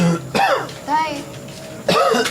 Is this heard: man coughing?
yes